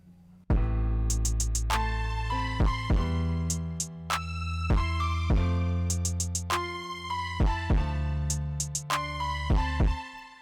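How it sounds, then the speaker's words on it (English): A hip hop instrumental beat plays, with deep bass, punchy drum hits and bright melodic synth notes repeating in a steady loop, no vocals. "This is an instrumental, a hip hop instrumental basically"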